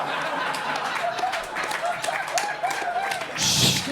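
Audience at a live stand-up comedy show clapping and murmuring, a steady patter of applause under a voice talking over it, swelling briefly near the end.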